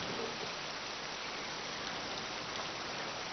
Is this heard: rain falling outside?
yes